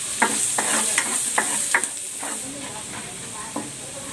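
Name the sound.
garlic sautéing in oil in a pan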